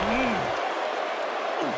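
A wrestling arena crowd in the WWE 2K18 video game, a broad, steady roar of applause and cheering under a commentator's voice.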